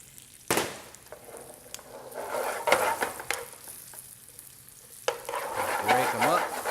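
Nuts, garlic and raisins sauté in a pan for Mediterranean spinach, a soft sizzle under repeated scraping stirs and knocks of a utensil against the pan.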